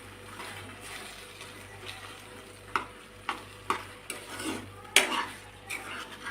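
Bread halwa with milk is stirred gently in a pan. Soft, irregular spoon scrapes and clinks against the metal sit over a low simmering sizzle, with a sharper knock near the end.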